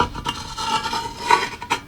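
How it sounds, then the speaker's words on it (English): Two frying pans are rubbed against each other, giving a close metallic scraping and grinding with a few sharper resonant squeals and scuffs, heard alone. "And here we have a couple of frying pans."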